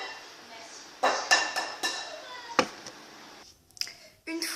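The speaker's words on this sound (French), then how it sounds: "Une fois les 3 œufs cassés dans votre saladier" Three eggs cracked one after another against the rim of a salad bowl, each giving a sharp tap followed by a quieter clink and shuffle of kitchenware, close and clear with no voices.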